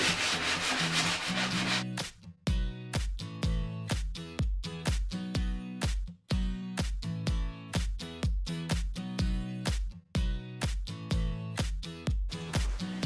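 A wooden window frame is sanded by hand in steady back-and-forth strokes, loud and close, with brief pauses between passes and no voices.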